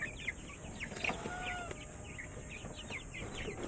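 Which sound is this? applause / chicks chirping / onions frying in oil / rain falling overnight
chicks chirping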